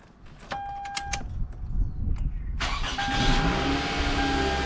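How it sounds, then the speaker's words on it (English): A 2007 Toyota Camry with a newly replaced alternator: a few small clicks and rattles, then the engine cranks and catches, settling into a steady idle close by. "I'm going to start up the vehicle."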